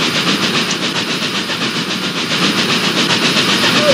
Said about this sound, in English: Don't know what a big boy is, it's actually a train.